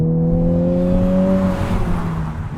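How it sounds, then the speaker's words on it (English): Honda Civic Type R, a front-wheel-drive performance car, accelerating hard with a loud, rising engine note that climbs steadily before easing off, close and alone without talk. "It puts the power down shockingly well for a front-wheel drive car."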